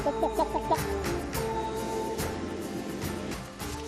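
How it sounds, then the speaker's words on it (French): A cluster of quick, close chicken clucks at the start, followed by steadier clucking and cackling over a busy barnyard background. "Salut les poules!"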